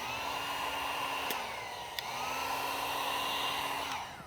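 A heat gun warms vinyl wrap on a Tesla Model Y, blowing a quiet, steady whirring airflow with a faint shifting tone and a couple of small clicks.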